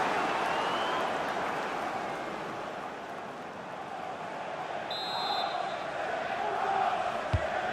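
A FIFA 22 stadium crowd roars steadily through a League Cup semi-final between Manchester City and Chelsea, a dense, continuous wash of cheering that swells slightly toward the end, with a single thump near the close.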